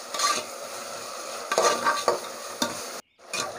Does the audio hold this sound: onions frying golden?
yes